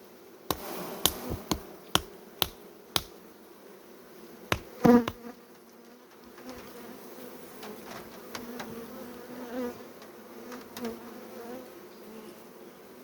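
Honey bees buzz steadily around a polyurethane foam hive during autumn nest preparation, with a string of sharp wooden knocks and taps early on over the continuous hum.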